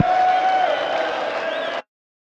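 A crowd at a darts tournament applauds and cheers in a dense, steady roar that fills the hall, with faint voices mixed in, then cuts off abruptly.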